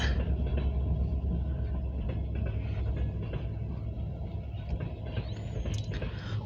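Two Norfolk Southern freight trains meet near Erie, one a mixed manifest and one a local freight, heading east and west. They give a heavy, steady low rumble with rolling rail clatter, loud and continuous throughout.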